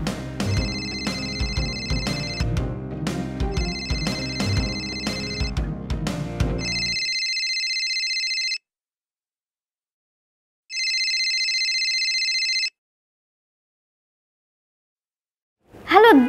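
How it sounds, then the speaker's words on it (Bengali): A mobile phone's ringtone plays a melodic tune, then switches to bursts of electronic trilling ring separated by silence, heard indoors at home; a voice comes in briefly at the very end. "আমার ফোন বাজছে আমি বুঝবো"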